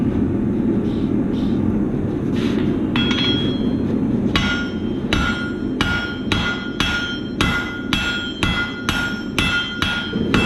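A blacksmith's hammer strikes metal on an anvil in a steady series of ringing blows, with quieter, duller double taps before the rhythm settles in.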